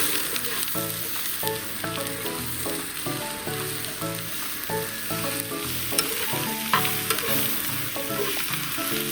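Cooked beans frying in a pan with chili powder, a loud continuous sizzle with repeated rhythmic scraping and stirring strokes throughout, close and busy with no voices.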